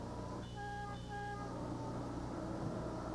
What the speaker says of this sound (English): sound your horn to alert the flaggers that you're entering the roadway